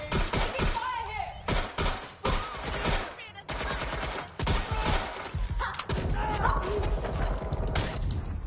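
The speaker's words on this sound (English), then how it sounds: "Taking fire here." Heavy gunfire in Watch Dogs: Legion: loud bursts of automatic rifle fire and single sharp shots come in rapid clusters with brief gaps, close and harsh, alongside mechanical clatter and thuds.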